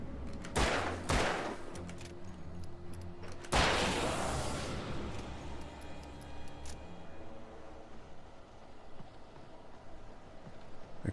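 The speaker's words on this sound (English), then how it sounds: "I need to shoot you so you're out of the way so I can shoot him" Gunfire in the Alan Wake video game: a few sharp close shots early on, with one louder blast and a long ringing decay, then a lingering noisy game ambience with no talk.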